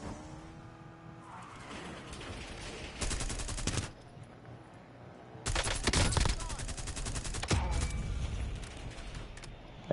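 Bursts of automatic gunfire in the video game Warzone come in two rapid volleys, close and sharp, with game noise between them.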